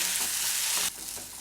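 Spiced masala potatoes fry in a pan with a bright, steady sizzle, and partway through the hiss drops as they are stirred and turned over, a scrape or two breaking the frying noise.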